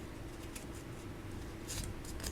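Scissors trim paper for a handmade Christmas gift tag. A few quiet, crisp snips come near the middle and a quick cluster near the end, against a low background hum, with no talking.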